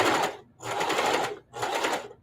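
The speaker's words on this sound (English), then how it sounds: "I'm sewing through 4 little thin seams, and I notice it slowed down, but this is a heavy duty machine" A heavy duty sewing machine stitches through four thin fabric seams in three sustained close, loud runs, with brief pauses between them.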